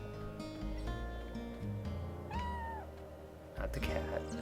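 A cat meows a few times in Chrono Cross, with short rising and falling mews over background game music and no speech.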